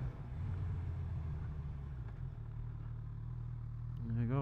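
Motorcycles passing by on a road, heard from a rider's helmet as a steady engine rumble under strong wind noise, with a voice talking briefly near the end.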